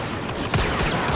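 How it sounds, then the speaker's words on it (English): Rapid blaster fire from a Star Wars Battlefront battle on Bespin, a dense continuous crackle of energy shots with a sharper burst near the middle, close and steady throughout with no talk. "Blaster fire kinda hurts, huh?"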